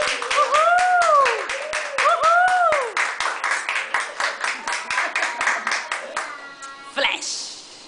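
Wedding guests clap and applaud right after the couple is pronounced married, a close, dense burst of hand claps that thins into scattered claps, with a voice and whistle-like calls over it at the start.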